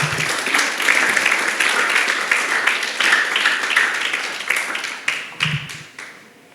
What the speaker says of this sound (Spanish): ¿No le das otro aplauso al Señor?